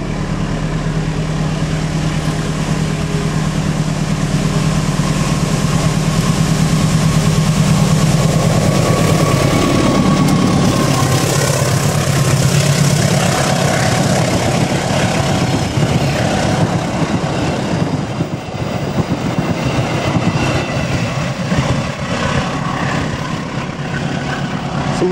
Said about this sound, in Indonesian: Sesaat lagi kereta api Serayu Pagi akan segera melintas.